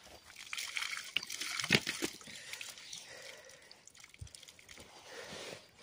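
Water trickles and splashes while dishes are washed outdoors at Jaljala, a steady close dribble with a brief louder slosh near the middle, no talk over it.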